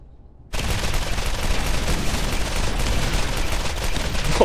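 Enemy gunfire in Borderlands bursts in suddenly after a brief quiet moment, then continues as a loud, sustained barrage of rapid shots without a pause.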